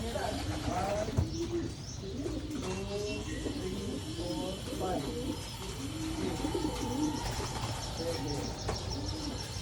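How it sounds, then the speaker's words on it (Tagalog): Japanese racing pigeons coo in a loft, repeated soft rolling calls overlapping nearby against a steady background hum, with people talking intermittently. "Tignan nyo, yung mga ibon natin na Japan."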